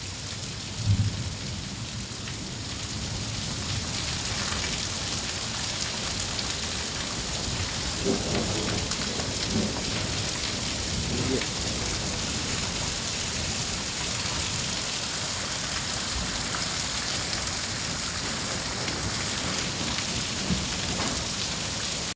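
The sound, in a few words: heavy rain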